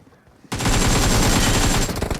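Automatic gunfire in PUBG Mobile, a sudden loud sustained burst of rapid shots that starts after a brief quiet moment and holds at full level.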